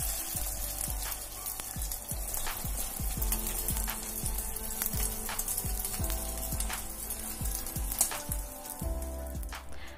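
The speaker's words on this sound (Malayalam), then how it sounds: "ഇതിനകത്തോട്ടാണ് ഞാനിവിടെ മുട്ട ഒഴിച്ചു കൊടുക്കുന്നത്" An egg poured through a slotted spatula into hot oil in a pan fries with a steady crackling sizzle full of fine pops and repeated soft knocks, close by and with no talk.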